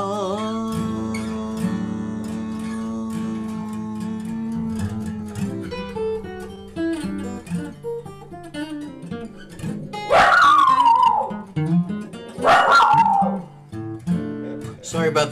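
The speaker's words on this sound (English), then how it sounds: "Sorry about the dog barking." A dog lets out two loud, drawn-out howling barks near the end, over soft music playing throughout.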